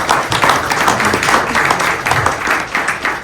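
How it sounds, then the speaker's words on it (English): An audience at a civic meeting claps in a steady burst of applause, many hands close and loud throughout, with no voices over it. "Let's give them a round of applause"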